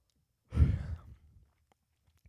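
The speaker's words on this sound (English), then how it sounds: "if you just yawn" A single breathy yawn, close and fairly loud, trailing off into quiet breathing.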